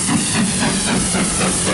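A diesel locomotive rumbles close by, a loud, steady hissing roar over a low droning undertone that holds for the whole short stretch, with no talking.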